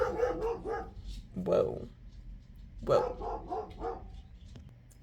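A dog barks several times in short bursts at moderate distance, with a person talking over it.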